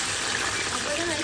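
Potatoes for French fries hiss in hot, smoking oil, a loud, dense sizzle held without a break, with a voice talking over it.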